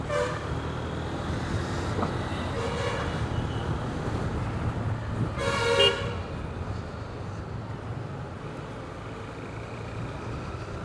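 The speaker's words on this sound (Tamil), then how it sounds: "ஏன்டா இவ்வளோ டிராஃபிக்கு?" Busy road traffic with a steady rumble of passing cars and a clear car horn honk partway through, heard close amid continuous engine noise.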